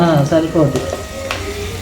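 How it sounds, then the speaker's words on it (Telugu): Onions for chicken biryani frying in a clay pot toward golden brown, with a close, steady sizzle and stirring while a person talks over it. "మంచిగా గోల్డెన్ బ్రౌన్ కలర్ వచ్చేలాగా ఫ్రై చేసుకోవాలి ఆనియన్స్"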